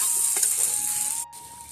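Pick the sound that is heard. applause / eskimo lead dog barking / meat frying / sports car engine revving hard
meat frying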